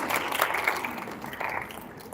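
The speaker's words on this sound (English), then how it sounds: "Please give them a huge round of applause." A Gavel Club grand finale audience applauds the table topic contest's contestants with a steady, moderately loud wash of clapping that continues evenly throughout.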